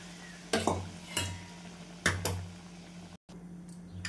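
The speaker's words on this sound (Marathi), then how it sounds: "आता गरम पाणी टाकून घेते मी" Hot water poured onto a roasted spice and coriander powder mix for a Vidarbha-style fresh pigeon pea amti, giving a few short hissing sizzle bursts with spoon stirring and utensil knocks in a quiet kitchen.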